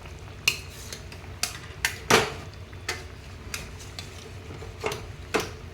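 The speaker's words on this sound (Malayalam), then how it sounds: "ചിക്കനെല്ലാം ഗ്രേവിയിലോട്ട് ചേർത്തിട്ടുണ്ട്." Chicken pieces for a homemade chicken curry tipped into gravy in a pot, heard as a series of sharp metallic clinks and knocks of a utensil against the pot, spaced irregularly over a low background hum.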